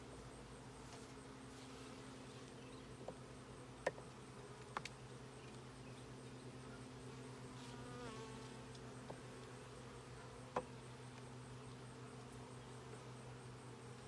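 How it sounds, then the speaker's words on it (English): Honey bees swarm thickly over a hive during a honey harvest, giving a steady low buzzing drone with a few faint clicks and knocks, fairly quiet and continuous throughout. "too many bees on it to tell"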